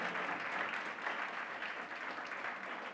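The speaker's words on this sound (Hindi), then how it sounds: "जोर से प्रभु के लिए ताली बजाएंगे।" A congregation at a church spirit conference clapping for the Lord, a dense sustained wash of many hands applauding in a large hall, steady and moderately loud for the whole stretch.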